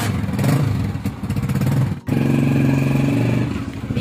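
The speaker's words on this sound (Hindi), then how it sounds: "बाइक स्टार्ट कर" A motorcycle engine runs and revs throughout, loud and close, with a steady rumbling drone and a brief cut near the midpoint before the engine picks back up.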